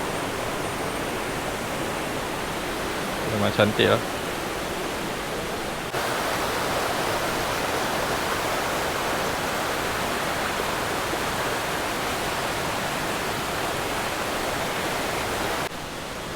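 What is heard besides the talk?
river flowing below campsite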